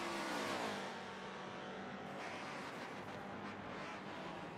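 Three Porsche race cars battle in a prototype racing video game, their engines a continuous loud roar with shifting pitch as they run close together, with no pauses in the drone.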